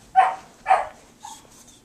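Puppies waiting at a door give two sharp close barks followed by a softer yip, spaced out over a quiet background.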